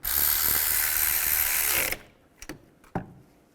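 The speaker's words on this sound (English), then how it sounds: "Put the nut on. Tighten it down." A ratchet tightens the nut on the dipstick bracket of a 2002–2009 Chevrolet Trailblazer during exhaust manifold work, making a steady close clicking whir that stops, followed by a few sharp metallic taps.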